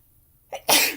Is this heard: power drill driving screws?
no